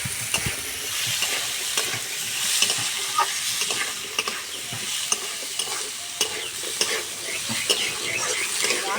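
Medium potatoes cut into small pieces sizzle and fry in a pan while being stirred, with a steady close-up hiss broken by frequent scraping clinks of the spoon against the pan. No voices are heard.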